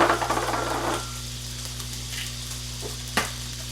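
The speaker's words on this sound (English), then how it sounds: "I'm going to put in the butter, the last tablespoon. We're going to let that melt" Butter for garlic fried rice melting in a frying pan gives a soft, steady sizzle over a low kitchen hum, with a brief burst of louder crackling at the start and a small clink near the end.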